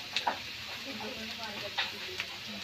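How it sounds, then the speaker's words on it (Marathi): Green chillies fry in a pan for kanda pohe: a soft, steady sizzle close by, broken by a few faint stirring scrapes, with a voice talking quietly over it. "मिरची आता ब्राऊन होईपर्यंत भाजून घेऊया।"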